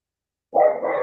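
An old, blind dog with dementia lets out one sudden, close bark after a moment of silence, the sound held briefly at the end.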